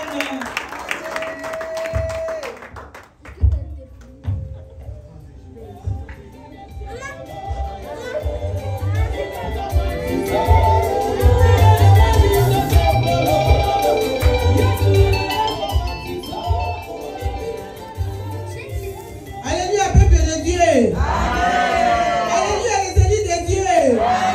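A church congregation at a Sunday worship service in Sherbrooke applauds and acclaims God, clapping and voices swelling into loud sustained praise with shouts, rising after a quieter start and peaking again near the end.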